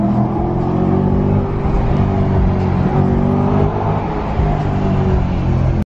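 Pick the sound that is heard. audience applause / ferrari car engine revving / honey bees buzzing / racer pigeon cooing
ferrari car engine revving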